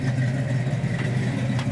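A 1967 Pontiac Firebird convertible with a 400 engine and dual exhaust idling nearby, a steady low burbling rumble with an even pulsing rhythm.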